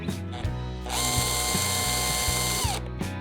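A drill bores a small 3/16-inch pilot hole into a kayak hull, a loud close whine rising for about two seconds between short ratcheting clicks and mechanical starts and stops.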